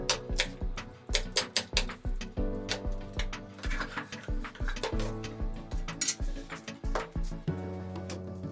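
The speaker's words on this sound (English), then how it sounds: "chop the red pepper. Chop the green peppers" Knife chopping red and green peppers on a cutting board in a kitchen, rapid repeated sharp knocks in uneven bursts, close and clear with no talking.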